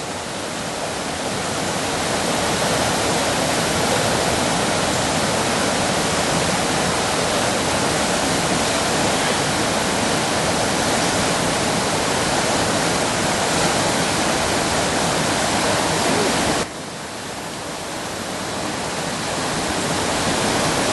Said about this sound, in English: Plenty of water flowing.